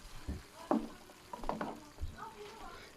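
Beef with peppers and tomatoes cooks in a pan in a village kitchen, giving a faint sizzle with soft scraping and stirring clinks, close by and quiet, with a little talk.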